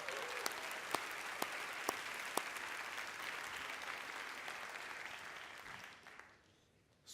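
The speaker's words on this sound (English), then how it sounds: "can we give a big round of applause for Ami?" Warm applause from a conference audience at a business keynote, a full, even wash of clapping with a few sharp nearby claps, tapering off and fading to near silence at the end.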